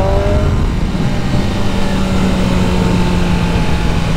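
A BMW M1000RR motorcycle engine revving steadily through its break-in routine, a loud, continuous drone holding a sustained pitch with little variation, close to the listener and heard alone without talk.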